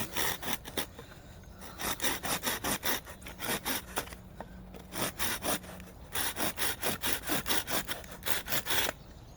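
Hand saw cutting a notch into a piece of wood during carving, fast rhythmic back-and-forth strokes close up, with a brief pause midway before the strokes resume, no talking.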